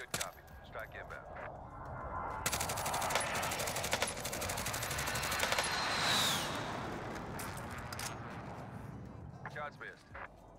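Airstrike gunfire in a military video game: a long, loud roar of rapid automatic fire and blasts that swells and fades over several seconds, with radio-style voices before and after.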